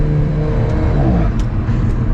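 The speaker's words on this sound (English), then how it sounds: "Like, listen to the turbo noise again." Turbocharged four-cylinder engine of an Alfa Romeo 4C sports car under acceleration, a loud steady rumble and whir with a rising tone and faint turbo whooshes near the end, no talking.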